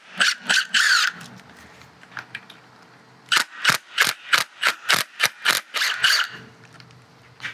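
Ratchet with a T30 bit backing out the three filter bolts on a 2009-2013 Audi A4 B8 CVT on the bench, a few clicks, a pause, then a steady run of about ten loud close ratcheting clicks.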